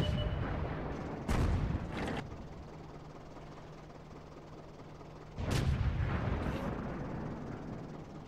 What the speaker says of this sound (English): That's a lot of shells dropping around him